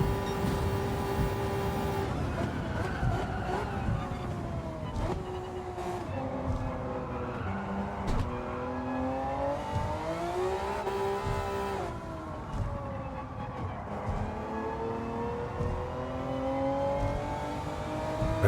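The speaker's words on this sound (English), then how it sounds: "Very slow to get the car going in third gear." A Honda NSX GT500 race car in Gran Turismo 7 roars steadily at high revs, its engine note rising and falling through gear changes during a Tokyo lap, loud and continuous throughout.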